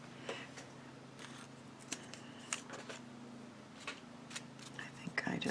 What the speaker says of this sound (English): These little Christmas icons are so easy to cut out and use.